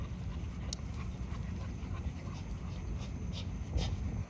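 A thick-coated dog, a Camelot breed, pants steadily at close range, quick rasping breaths running continuously through the moment with a faint whimper-like squeak near the end.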